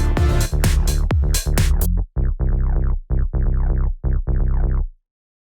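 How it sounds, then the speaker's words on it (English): A split bass track for serial compression plays loud and alone: a repeating synth bass line of short punchy notes in a steady rhythm that stops abruptly after about five seconds. "I've already split my bass track, which sounds like this."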